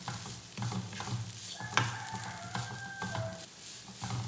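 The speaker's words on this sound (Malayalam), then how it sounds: "നന്നായിട്ട് മിക്സ് ചെയ്തെടുക്കാം." A coconut and sugar mixture is stirred in a frying pan, with soft scraping strokes over a low sizzle, close and fairly quiet, and one sharp tap partway through.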